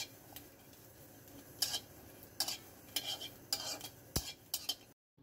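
Green chilies, garlic and onions frying in a pan, with a spoon scraping and clinking against the metal in irregular bursts over a faint sizzle, ending in abrupt silence.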